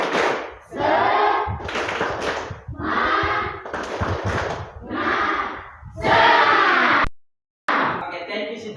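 A classroom of students performs the tepuk semangat clapping chant, with rhythmic bursts of clapping and group chanting in short repeated phrases and a brief pause near the end.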